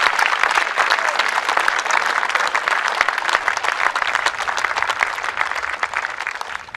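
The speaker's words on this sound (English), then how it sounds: "please give another round of applause," Audience at a Mousehole MVC concert applauds two performers, Jenna and Rowena Matthews: a dense, steady wash of many hands clapping, loud and close, sustained evenly for several seconds with no talk.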